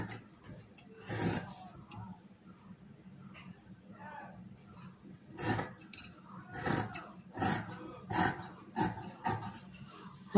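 Scissors cutting salwar kameez fabric, a series of short, faint snips spaced irregularly across the clip, with someone talking softly under them.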